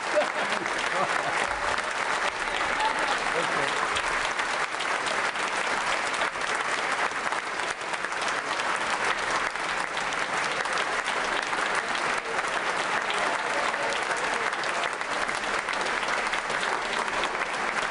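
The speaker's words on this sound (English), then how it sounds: "I'm sorry we're still clapping." Prolonged applause in the House of Commons as members clap for the outgoing Prime Minister, a thick, unbroken roar of many hands that stays level for the whole stretch, heard alone without any speech.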